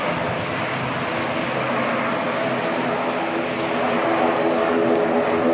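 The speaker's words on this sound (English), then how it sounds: "Outbound ATR is NZ5176 heading up to Palmy North." An ATR turboprop airliner takes off at Christchurch Airport in wet and windy weather, its loud, steady propeller and engine roar holding strong and building slightly toward the end, with no voices.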